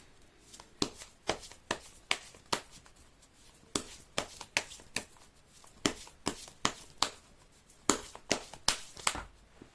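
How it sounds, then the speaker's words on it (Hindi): Tarot cards being shuffled by hand, a steady series of sharp riffling bursts repeating about every half second, close and crisp, with no talk over them. "मैं कर लेती हूँ कार्ड की शफलिंग"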